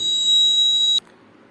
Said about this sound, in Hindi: ये देखिए टूटने के साथ ही आपका अलार्म ऑन हो चुका है।